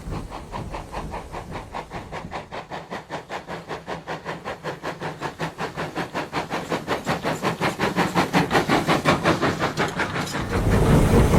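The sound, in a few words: Western steam engine working hard up steep climb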